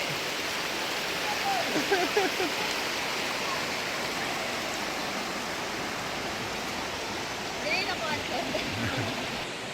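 A cold river stream rushes steadily in a wide, broadband roar, with brief faint voices and splashes in the background now and then.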